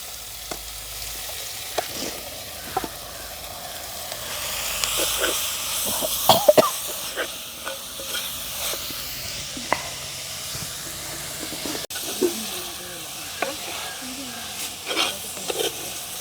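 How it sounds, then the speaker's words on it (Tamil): Carrots added to half-softened onions sautéing in a deep pan for a mushroom curry, a steady close sizzle with frequent spoon taps and scrapes, a few coughs and faint voices in the background. "நாங்கள் இப்போ இந்த கரட்டை கொட்டி அதோடு சேர்ந்து வறுப்போம்"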